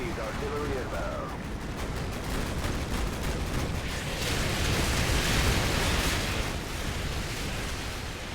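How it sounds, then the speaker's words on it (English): Artillery strike explosions in Call of Duty: Modern Warfare 2, a dense, continuous roar of blasts and rumbling impacts that builds in the middle before easing slightly, with a brief radio-style voice near the start. "Fire mission received. Artillery inbound."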